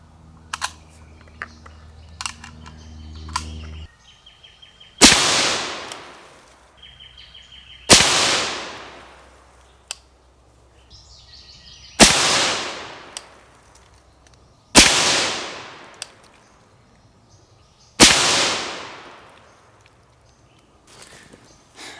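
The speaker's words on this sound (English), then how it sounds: "We'll give it just a second and shoot our last group" A 6.5 Grendel rifle firing 120gr Speer Gold Dot loads over Varget fires a group of six loud, sharp shots about three seconds apart, each trailing off in echo. Faint handling clicks come before the first shot.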